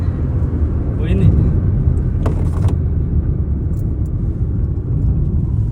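A Hyundai Verna 1.6 CRDi turbo-diesel car pulling hard in third gear, a steady loud low engine drone and cabin rumble heard from inside, with someone talking faintly over it.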